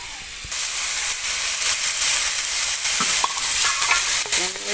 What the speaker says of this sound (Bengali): ভেজে নেবো চালটা।